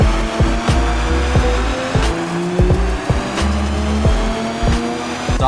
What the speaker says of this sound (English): Stock dyno pulls in the Supra.